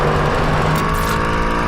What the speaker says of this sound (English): Now listen to the shift in this Chevrolet trailer and tell me what you hear.